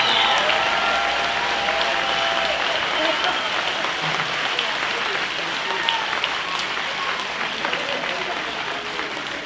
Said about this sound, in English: I want to give a big round of applause for those hard workers behind that have done this